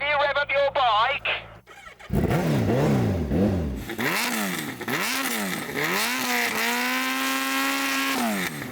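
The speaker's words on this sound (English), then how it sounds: "Rich, can you rev up your bike?" A turbocharged Suzuki Hayabusa motorcycle engine revs hard several times, rising and falling in pitch with loud throttle blips, close and dominant.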